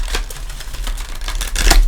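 Tarot cards are shuffled by hand in a steady run of rapid riffling clicks and flutters with a low hum underneath, close to the listener and with no talking.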